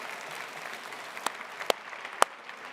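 Audience applause at a London creativity event tapers off into a thin patter, with a few louder isolated claps or whoops standing out near the end.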